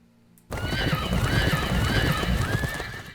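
Horses whinnying with clip-clopping hooves in the Fallen Enchantress: Legendary Heroes strategy game, a steady loud run of neighs over trotting that starts abruptly after half a second of quiet and lasts to the end.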